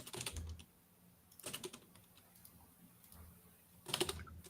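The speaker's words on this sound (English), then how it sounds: "Sorry, typing a message here to some of my coworkers" Computer keyboard typing in short bursts, a cluster of keystrokes at the start, another near the middle and a final flurry at the end, with quiet gaps between and no talking.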